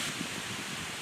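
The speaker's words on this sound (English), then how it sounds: "it is super windy out tonight." Strong wind roaring through trees at night, a constant rushing noise with gusty swells and buffeting, no voices, recorded high in a tree stand while bowhunting in Michigan.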